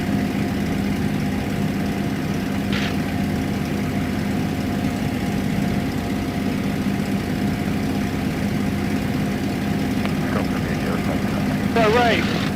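Light airplane engine in level flight at around 200 knots, a steady loud drone filling the whole stretch from inside the cabin, with brief voices over it near the end.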